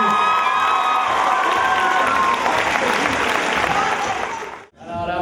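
An audience at a head-shaving fundraiser claps and cheers loudly and continuously, with the applause fading sharply near the end before it picks up again.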